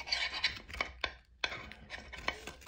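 A knife slicing through sopapilla cheesecake bars in a pan, making a series of soft scraping and tapping cuts at an uneven rhythm, quiet and close.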